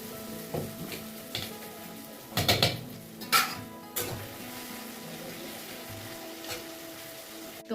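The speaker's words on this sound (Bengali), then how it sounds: "এখন চিকেনটা কষাচ্ছি" Chicken sautés in a pan with onion, garlic and ginger, a low sizzle under intermittent clinks and scrapes of a utensil against the pan, fairly quiet and close.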